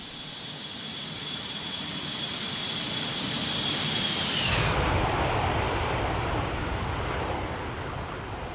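Boeing 747 jet sweeping past in X-Plane 12, a loud rising roar with a high engine whine that drops sharply in pitch at the pass, then a broad rumble fading away.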